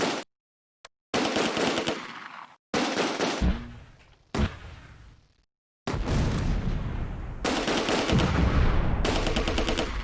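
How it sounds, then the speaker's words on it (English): Gunfire in the war video game Close Combat: A Bridge Too Far: long, loud stretches of dense machine-gun and rifle fire with heavy booming impacts, broken by a few short pauses. "You're shooting at them."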